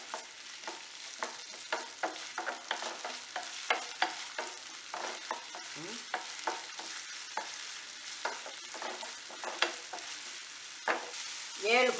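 About 50 grams of peeled, finely chopped ginger fries in hot oil for Kerala inji puli, with a constant close sizzle and repeated scraping stirs throughout, without speech.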